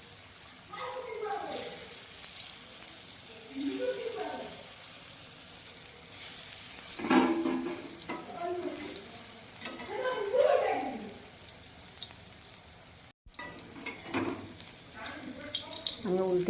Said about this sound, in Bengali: আমি এগুলো ভেজে নেব।